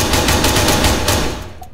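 Rapid bursts of automatic gunfire in the military shooter ARMA 3, loud and dense for over a second before tailing off into a brief quieter click.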